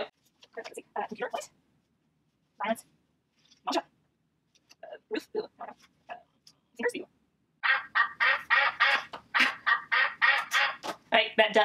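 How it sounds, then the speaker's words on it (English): A duck-sound timer goes off with a rapid run of loud, close quacks that fill the last few seconds, after a stretch of speech. "That duck means it's time for the next one"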